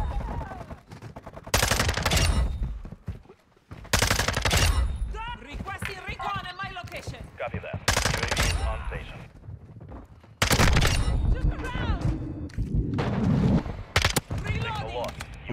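Rapid bursts of Hurricane SMG fire in Modern Warfare 2, loud sustained volleys broken by short pauses, with a player talking between and over the shooting.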